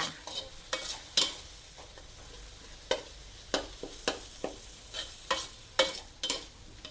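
Minced pork chili paste stir-fried in a pan, a soft sizzle beneath a rapid series of sharp spatula scrapes and taps, close up, with no talking.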